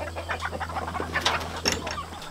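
Chickens clucking and squawking nearby as they are fed leftover food scraps, short bursts of calls over a low steady background hum.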